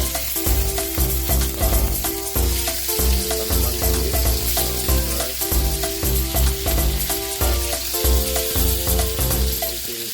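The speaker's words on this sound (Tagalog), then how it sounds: "Pan-fried lang natin siya." Marinated pork pan-frying in butter and oil gives a loud, continuous sizzle that runs throughout, layered with rhythmic background music.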